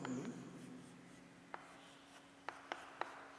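Chalk tapping against a board while a chemistry formula is written, a few faint, sharp ticks in a quiet room after a brief low hum.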